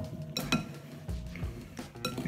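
Sugar-coated apples being stirred in a bowl, with a spoon giving a few soft scattered clinks and scrapes against the bowl, faint and close by.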